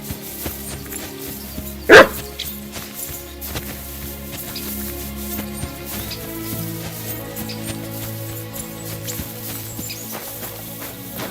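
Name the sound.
dog barking in Kingdom Come Deliverance 2 video game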